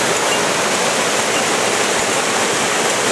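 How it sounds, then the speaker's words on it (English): A waterfall on an abandoned farm road in Japan roars steadily, a constant broadband rush with no pauses, loud and close. "And this beautiful waterfall"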